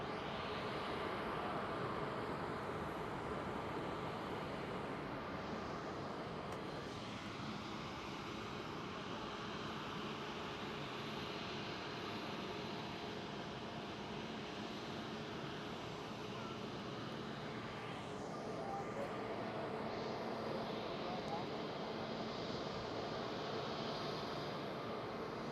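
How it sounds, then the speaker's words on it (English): A China Southern Cargo Boeing 777 departing Schiphol, its engines a broad, steady distant roar that holds at one level throughout, with no talk over it. "There she goes, China Southern Cargo 777."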